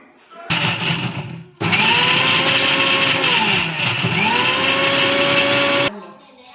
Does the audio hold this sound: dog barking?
no